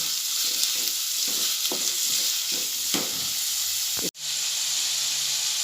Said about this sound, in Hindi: मैंने प्याज को धीमी आंच पर रखी हूँ नरम होने के लिए।